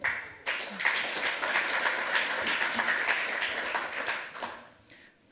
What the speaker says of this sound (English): without any further ado, round of applause